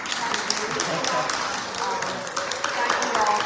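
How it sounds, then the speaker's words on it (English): Audience applause at a talk event, a steady broadband wash of many hands clapping that holds evenly for the full stretch, dense and sustained at moderate level. "I know we're all going to give you a big round of applause."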